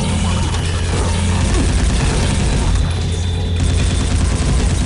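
Turret gunfire blasts nonstop in the video game SiN, a dense, loud, continuous roar of rapid shots and booming impacts filling the whole stretch without a break.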